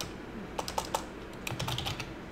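Quiet typing on a computer keyboard, a few scattered keystrokes in two short bursts, close and light, with no talking.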